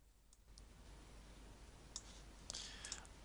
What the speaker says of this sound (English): all I need to do is double click the Audacity icon